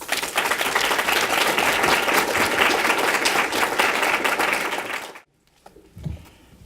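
A crowd at a charity grantee event gives loud, sustained applause, many hands clapping densely for about five seconds before cutting off abruptly into near silence.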